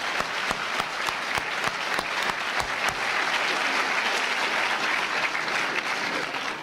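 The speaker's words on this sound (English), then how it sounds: "if you could raise your hands, I'd like to give you a round of applause for coming, because I appreciate it." Sustained applause from a college audience gathered for a talk, with dense continuous clapping and a few sharper individual claps standing out near the front, steady and loud throughout.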